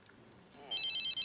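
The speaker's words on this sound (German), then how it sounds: "Telefon." A telephone rings in The Sims 3, a bright electronic ringtone that starts abruptly and repeats its warbling tone loudly and alone, with no talk over it.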